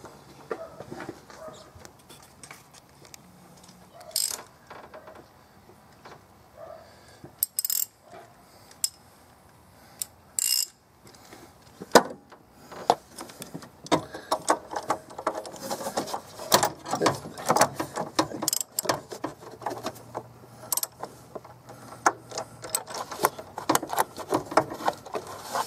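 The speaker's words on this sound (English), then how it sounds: "you're gonna actually use the wrench to tighten it" A wrench tightens the oil filter on a Fiat 500, faint ratcheting clicks and metallic taps that start sparse and grow into busy, irregular clatter.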